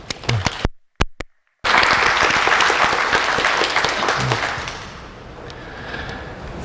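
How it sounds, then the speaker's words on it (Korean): Conference audience at a Python talk breaks into loud, dense applause after a couple of brief isolated claps, holding steady for several seconds before tapering slightly toward the end. "이분들한테 박수를 드려야 될 것 같아요"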